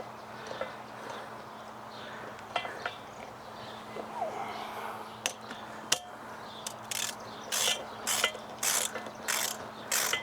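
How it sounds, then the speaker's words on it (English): Bolts being hand-tightened on a Ford C-Max rear suspension, a few metallic clicks and knocks, then a run of rhythmic ratcheting clicks near the end, close and moderately loud over a low steady hum. "I'm going to start in the top right corner and hand tighten them in to set them, and then they get torqued to 81 foot-pounds in the crisscross pattern"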